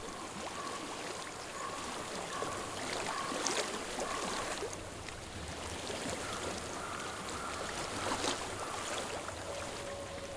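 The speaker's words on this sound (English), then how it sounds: "I hear water." Flowing water in Hellblade: Senua's Sacrifice rushes as a constant stream-like wash, with faint tonal game sounds drifting underneath.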